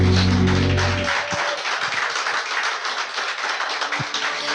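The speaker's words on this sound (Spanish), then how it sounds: "Puedes darle un fuerte aplauso a tu Dios." Church congregation applauding after a prayer, a dense wash of clapping that follows a brief musical chord and continues steadily at moderate loudness.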